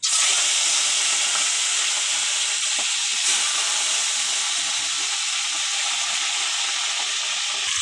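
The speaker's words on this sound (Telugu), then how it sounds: "ఆయిల్ వేడైనాక చికెన్ వేస్తా." Chicken pieces frying in hot oil in a pan, giving a loud, steady, even sizzle and hiss that continues unbroken throughout.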